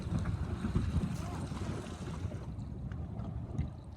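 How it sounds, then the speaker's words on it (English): Steady wind buffets the microphone aboard a C420 sailboat racing in a light south breeze at a regatta, with low rumbling gusts and water noise close by, continuous throughout. "Painfully light south wind."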